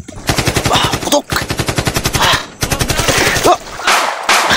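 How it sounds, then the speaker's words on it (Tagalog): Rapid bursts of automatic gunfire crack loudly and close in a fight scene, coming in several long volleys separated by brief pauses. "Putok!"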